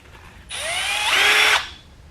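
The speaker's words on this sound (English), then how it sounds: "I got my drill bit on low, or my drill on low speed." A power drill whirs on low speed for about a second, close and steady, with a short spin-up and abrupt stop, while working on a 68RFE transmission solenoid switch valve.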